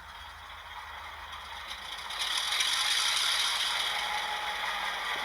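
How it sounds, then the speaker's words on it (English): A WAGR XA class model locomotive with an ESU DCC sound decoder starts its motor, a low rattling mechanical drone that steps up louder about two seconds in and then runs steadily, nearby and with no speech. "then we'll turn the motor on, which I'll put it down here so you can hear it"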